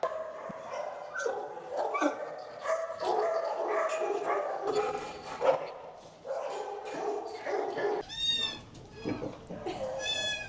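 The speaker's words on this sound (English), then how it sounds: "We got some puppies with their mamas back here." Puppies and their mother dogs in the kennels of a county animal shelter at feeding time: a busy, overlapping mix of barks, yips and whiny cries, with high-pitched yelps rising near the end.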